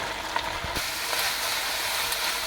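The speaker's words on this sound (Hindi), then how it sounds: "अब हम इसमें 1 kg बीफ कीमा ऐड करेंगे।" Beef mince, a full kilo, frying in a pan with softened onions over medium flame, giving a steady loud sizzle with a few brief stirring knocks near the start.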